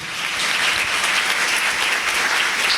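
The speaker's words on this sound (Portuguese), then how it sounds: "Vamos aplaudir a palavra de Deus? Aplauda." A church congregation applauds the reading of scripture, a loud, steady wash of many hands clapping together that fills the whole moment without pause or speech.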